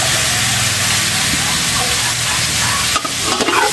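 Quail eggs sautéing in a pan for a home fiesta dish in Capas, Tarlac, giving a steady close sizzle and frying hiss with stirring, plus a few clattering scrapes near the end.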